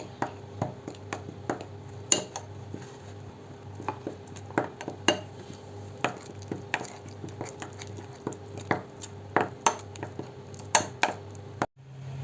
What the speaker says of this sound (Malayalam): ഇതിനൊന്ന് നമുക്ക് ചെറുതായിട്ടൊന്ന് മിക്സ് ചെയ്ത് വെക്കാം